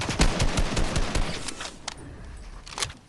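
A shotgun fires in an online video game team rumble match, with a quick string of loud, sharp shots in the first half followed by a pause and a couple of louder blasts near the end.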